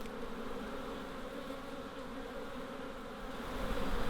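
Honeybees buzz around a hive in a garden, a close, dense and steady drone of many wings that swells slightly toward the end, with no voices.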